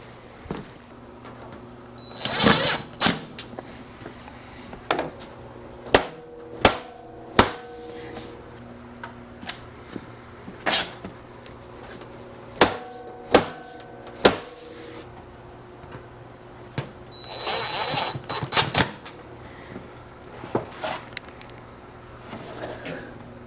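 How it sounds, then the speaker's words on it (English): A driver runs small black screws into a woodstove fitting in a workshop: a series of short, sharp mechanical bursts with pauses, each lasting about a second, close and fairly loud over a steady low hum. "I'll run some of those in there."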